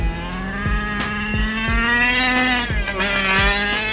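Big-scale 40lb RC race car with a gas engine held at full throttle, a loud buzzing two-stroke whine with a steady pitch that climbs slightly, broken by brief rhythmic clicks.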